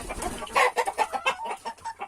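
Roosters and hens in a poultry yard cluck in a quick, rhythmic run of nearby calls, fairly loud and with no talk.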